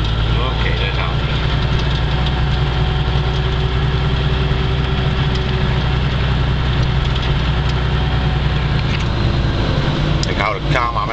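A 21-year-old DAF CF truck engine idles with a loud, steady low rumble and knocking undertone throughout, heard from inside the cab.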